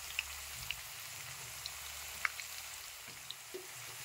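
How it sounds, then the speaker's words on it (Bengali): Potatoes fry in a pan with a soft, steady sizzle and occasional sharp pops and crackles, quiet and close with no talking. "এখন আমি আলু ভাজায় আমি এখন একটু লবণ, একটু হলুদ সব কিছু দিয়ে নেব"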